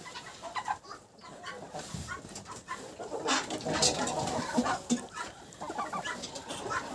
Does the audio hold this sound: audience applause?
no